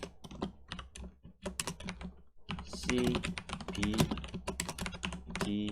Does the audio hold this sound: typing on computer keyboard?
yes